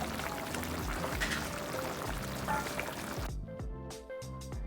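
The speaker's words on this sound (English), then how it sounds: "I'm just gonna add a bit more water." Water pours steadily into a simmering pot of Thai green curry with chicken and coconut cream, a close continuous splashing that stops abruptly, followed by a few faint clinks.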